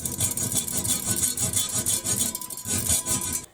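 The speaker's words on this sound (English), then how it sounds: "So I just need to hacksaw these off" Steady back-and-forth sawing strokes rasp through metal, rhythmic and close, continuing without pause and with no talking.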